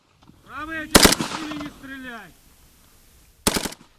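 Two short bursts of rapid automatic fire from AK-74 rifles at a military training range, loud and close, separated by a pause, with a person talking in Ukrainian in between.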